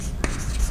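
A short scratch of writing on a board during an organic chemistry lecture, one quick stroke standing out over a steady low room hum.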